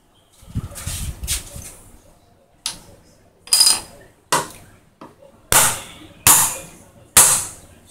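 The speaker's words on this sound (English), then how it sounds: "this hammering, I hear the sound is solid" Sharp hammer blows drive insert pieces into a DIY injection mold one at a time with uneven pauses, each a bright, solid knock that rings briefly. A short burst of rustling clatter comes before them.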